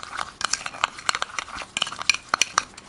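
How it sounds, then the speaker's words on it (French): A spoon stirs a gelatinous homemade facial exfoliant in a small bowl, producing rapid, close scraping and clicking strokes in an uneven, continuous rhythm. "Donc, je mélange."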